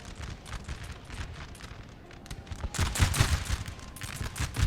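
Musket volleys crackle in the Napoleon Total War battle as massed line infantry fire, a dense, ragged rattle of shots that swells louder partway through, with no voices.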